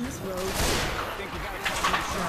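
Gunfire in Left 4 Dead 2, a zombie shooter, crackling in a busy cluster of shots throughout a noisy mix with a voice talking over it.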